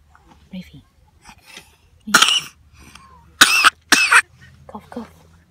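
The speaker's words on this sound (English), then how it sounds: "Cough, cough." Three sharp, close coughs: one burst, then a pair in quick succession, with faint talk and quiet background between them.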